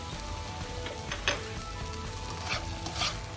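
Food frying in a pan with salt just mixed in, stirred over medium heat: a steady low sizzle with a few soft scraping strokes of the spoon, close and fairly quiet, no voices.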